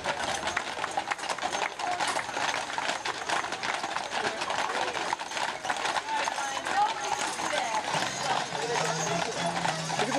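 Budweiser Clydesdale horses' hooves clop steadily on pavement amid a busy, noisy crowd, with people talking throughout and the clatter fairly close.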